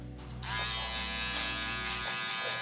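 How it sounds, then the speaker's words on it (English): An electric hair trimmer buzzes steadily and close while fading 4C hair, its whine growing louder as it meets the hair, then cutting off near the end. "any line you do see with the trimmer, you go back with the trimmer"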